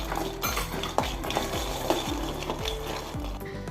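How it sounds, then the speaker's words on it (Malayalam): Peanuts roasting in a pan over a gas flame for healthy laddu, stirred with a spoon: steady scraping and rattling strokes with light metallic clicks, close and continuous under a faint tonal background. "നിലക്കടല വറുക്കാം"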